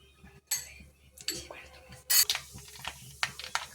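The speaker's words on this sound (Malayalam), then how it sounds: "കടുക് പൊട്ടി തുടങ്ങി." Mustard seeds pop and crackle in hot coconut oil in a home kitchen while a fish curry is being prepared: sharp, irregular snaps of varying loudness close by, over a quiet low background.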